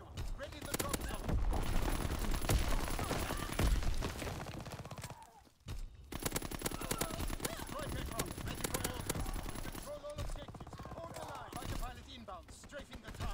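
Aircraft strafing gunfire in a video game, a dense, loud, continuous rattle of rapid shots with a brief break midway, under radio-style voice callouts.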